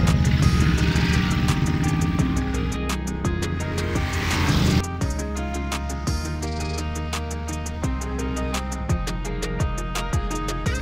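A Ducati Monster motorcycle accelerates on a race track, its engine note rising in a string of pitch sweeps that reset with each gear change, strong and continuous from start to finish without speech.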